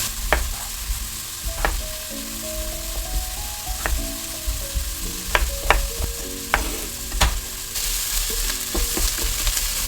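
Onions fry in a pan for a vegan broccoli cheese soup, a constant close sizzle punctuated by repeated clacks and scraping squeaks of a utensil stirring them, with no talking.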